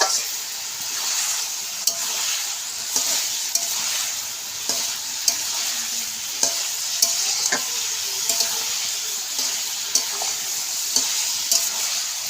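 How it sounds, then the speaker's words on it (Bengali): Ridge gourd curry with fish being stir-fried in a pan: a steady close sizzle with repeated sharp scraping clicks of a spatula stirring and pressing the mixture, no talking. "সব কিছুকে ভালো করে কষিয়ে নেব।"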